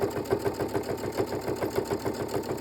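Sewing machine back-stitching across the edge of a fabric key fob, a fast steady mechanical whir-and-tap rhythm, close and continuous, with no talking.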